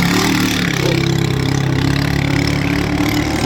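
A Malaysian-made engine on a Filipino fishing bancarera boat runs at a loud, steady drone with a constant rapid throb, close up and continuous throughout.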